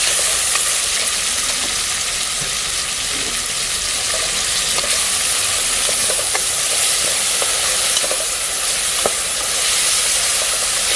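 Mutton biryani masala sautéing in a pot gives a steady, loud sizzle and hiss, with occasional clinks and scrapes from stirring throughout.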